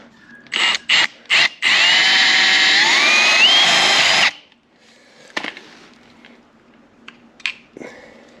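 A power drill buzzes in a few short bursts, then runs loud and continuous with a rising whine as it bites into a steel gear stick housing on a Land Cruiser, followed by quiet clicks and taps.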